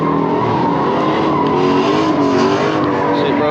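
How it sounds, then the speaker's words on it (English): A Dodge Hellcat at a street car meet, a loud close engine roar with tire squeal sustained throughout, voices faintly mixed in. "Shit, bro's Hellcat."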